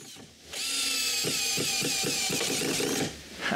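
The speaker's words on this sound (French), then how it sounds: "Après l'avoir vissé sur un bout de 2x4, je le visse en place sur la remise." A power drill drives a screw through an old gutter section into a shed, one steady high whine lasting about two and a half seconds, close by, with faint clicks under it.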